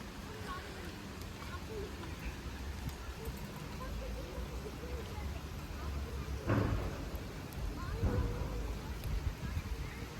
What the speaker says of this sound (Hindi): इतनी हल्की हल्की बारिश लगी और साथ में धूप आ गई